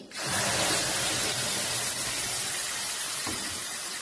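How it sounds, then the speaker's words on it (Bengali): Mustard seeds and spice paste hit hot oil with a steady, loud, broad sizzling hiss that starts abruptly and holds evenly throughout, close up and with no voices over it. "তেল গরম হয়ে গেছে ওই তেলের মধ্যেই আমি এখন দিয়ে দেবো একটু সর্ষে ফোড়ন"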